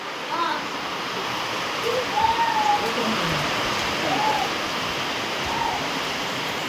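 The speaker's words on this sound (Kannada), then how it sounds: "ಇವಾಗ ಲೈಟಾಗಿ ಮಳೆ ಸ್ಟಾರ್ಟ್ ಆಯಿತು." Light rain begins, a steady, even hiss of falling drops outdoors, with soft bird calls and a voice faintly underneath.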